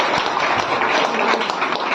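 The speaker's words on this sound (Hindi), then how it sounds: "जोरदार तालियां होनी चाहिए सर के लिए।" Audience applause at a plan presentation, a steady dense wash of many hands clapping at moderate volume for about two seconds, with faint voices mixed in.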